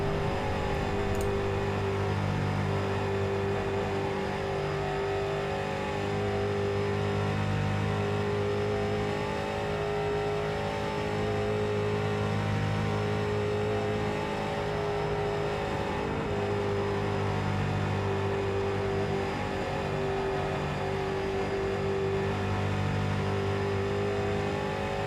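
A street stock race car in iRacing lapping Charlotte during qualifying, its engine droning steadily and loudly, with rising and falling revs through the gears and corners, and no talk.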